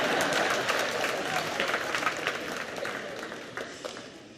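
An audience claps in a sustained burst of applause, dense and even at first, then thinning into scattered claps as it fades over a few seconds, with a voice faintly underneath.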